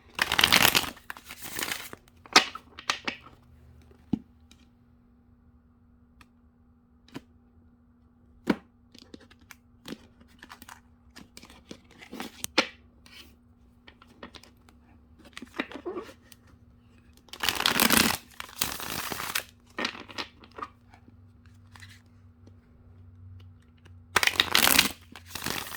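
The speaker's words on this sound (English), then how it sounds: "I'm going to shuffle and then we'll break the deck." Cards are riffle-shuffled in short, crisp bursts, close by, separated by long quiet stretches with light handling clicks and taps.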